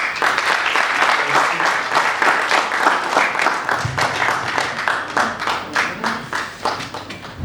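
Applause from a small gathering in Ghana's Parliament during a TB caucus event: a steady patter of many hands clapping, fairly close and continuous, thinning slightly toward the end.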